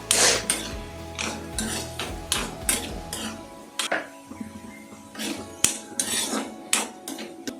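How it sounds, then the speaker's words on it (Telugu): Metal ladle scraping and clanking in a pan of fried bitter gourd while draining off extra oil, repeated close knocks and scrapes in an irregular rhythm over a faint sizzle, no voices. "ఇట్లాగే నేను గెంటుతో తీసేస్తున్నానండి ఎక్స్ట్రా ఉన్న ఆయిల్ మొత్తాన్ని"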